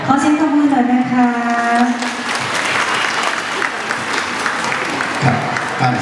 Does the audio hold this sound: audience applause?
yes